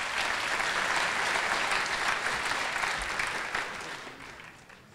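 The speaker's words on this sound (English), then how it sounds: "Let's give him a round of applause." A crowd at a hackathon closing ceremony applauds a team coming on stage, a full, dense burst of clapping that holds steady before gradually thinning and fading toward the end.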